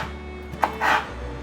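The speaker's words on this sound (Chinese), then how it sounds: "把辣椒的头切掉，把辣椒斜切" A knife slices a chili pepper diagonally on a cutting board, one brief sharp tap followed by a short soft cut, close and quiet.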